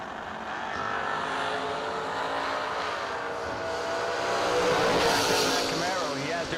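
A 1978 Chevrolet Malibu drag racing at a summer drag event, its engine roaring steadily and swelling louder as it passes at high speed, with an announcer talking over the run.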